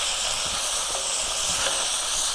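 Curry ingredients with ginger and garlic fry in a pan, giving a steady, loud sizzling hiss that holds evenly for the whole stretch without talk.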